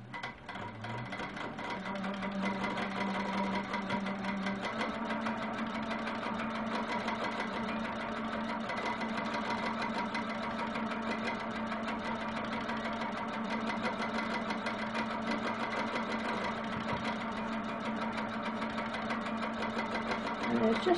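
A sewing machine stitches a quilt block in a steady, continuous mechanical whir with a fast rhythmic clatter and a low motor hum, running unbroken throughout.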